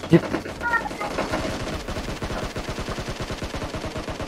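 Rapid automatic gunfire inside a room in the mobile game PUBG Mobile, a long rhythmic burst of close, loud shots, with voices talking over the start.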